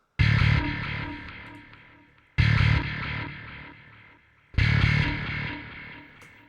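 Ambient bass guitar part from a song's second verse, drenched in delay and reverb: three loud, sustained swells struck about every two seconds, each decaying slowly into a washy tail, with no voices.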